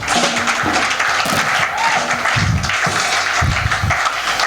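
A church congregation applauds and acclaims the Lord during an evangelist's sermon, sustained clapping and crowd noise filling the whole span at steady loudness, with a few low voices rising through it.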